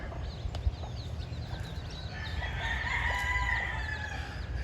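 A backyard flock with a hen and her nine chicks, heard over a steady low outdoor rumble; faint high peeping and clucking calls come and go, growing a little busier toward the end, and no one speaks.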